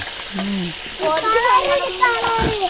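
Chicken sizzles steadily in hot oil, with occasional stirring and a voice briefly sounding over the frying.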